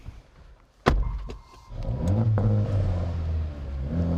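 A 2024 Acura Integra Type S engine starts with a sharp bang, then settles into a steady, rising rumble with a couple of revs, loud and close, with no talking.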